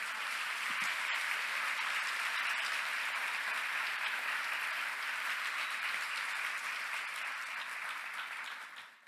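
A church congregation applauds during a sermon, dense, even clapping that fills the room and carries steadily for several seconds before trailing off at the end.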